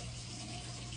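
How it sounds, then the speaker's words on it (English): Steady hiss of water running from a tap, continuous and close, with no pauses. "I'm gonna turn off my water."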